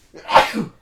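A single sharp human sneeze, close and loud, a quick burst with a short breathy tail, alone.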